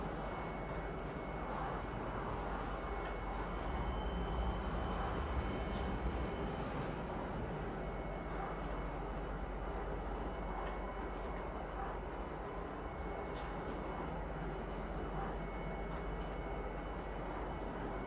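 Star Citizen metro train pulling into the Metro Center station, a continuous rumbling roll with faint squeaks and a few sharp clicks, steady and close, with no talking.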